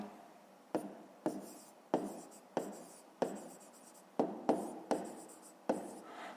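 Pen writing on paper during a math exercise, close and quiet, in a series of short scratchy strokes, each starting with a crisp tap and trailing off, about ten in an uneven rhythm.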